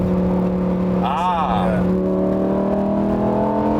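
A Lamborghini Huracán Performante engine drones steadily in fifth gear, pulling from 5,000 rpm, a low sustained hum rising slowly in pitch, with a brief whining sweep early on.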